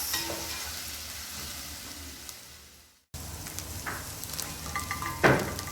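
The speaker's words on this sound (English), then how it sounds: "Once you've sauteed your onions and cooked your minced beef, you add them together." Minced beef frying in a pan gives a soft, steady sizzle with light crackle, broken by a brief gap midway before the frying resumes close by with a few scraping stirs.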